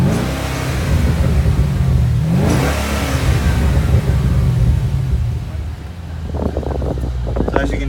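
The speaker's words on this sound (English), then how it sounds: "I'm going to give this car a good rev so that you can hear obviously the exhaust." A Holden SSV car is revved outside with the camera held near the exhaust, giving loud engine surges that climb and fall, and a brief burble settles between revs amid wind noise on the microphone.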